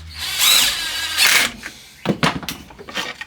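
A power drill drives chipboard screws into wood, whining in two loud bursts, then a series of short stuttering pulses as the screw seats.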